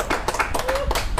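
Audience applause for Guru Gembul at an Indonesian talk event, a short burst of dense clapping with a voice faintly present underneath.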